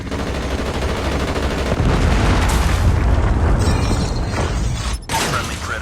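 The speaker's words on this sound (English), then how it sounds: "Predator missile inbound." In Call of Duty Mobile, a Predator missile strike lands as a sustained, heavy explosive roar with rumbling booms and crackling debris, loud and dense for several seconds before a brief dip and a renewed burst.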